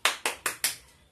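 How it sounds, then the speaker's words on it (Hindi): Four quick, sharp hand claps in an even rhythm, close and fairly loud, each fading fast, with no talking. "तालियां इसके लिए।"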